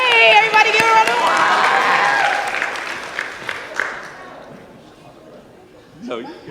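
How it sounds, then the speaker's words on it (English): A crowd gathered to hear a speaker from Common Cause bursts into loud applause and cheering that holds for a few seconds and then fades, with a little chatter and a voice near the end. "everybody give a round of"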